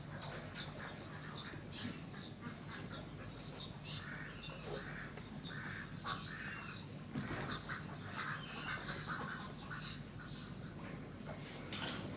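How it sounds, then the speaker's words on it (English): Ducks swimming on a river quack intermittently against a steady outdoor background of rushing water or wind, at moderate distance and fairly quiet, with no talking. "there's some ducks"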